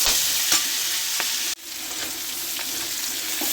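Onions and spices sizzle steadily in hot oil in a pan, a close, bright frying hiss with a few stirring scrapes, briefly dipping midway before resuming.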